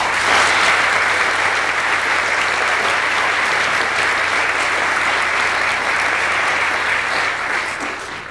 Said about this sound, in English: he, again, deserves a special round of applause and thanks.